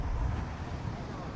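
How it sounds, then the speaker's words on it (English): Strong wind gusts across a beach where big waves are rolling in, a constant low rumbling buffet over the microphone with no clear breaks. "It's so windy."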